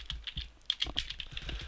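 Code typed on a computer keyboard, a quick, uneven patter of close key clicks with a few sharper taps, brief and alone without any voice.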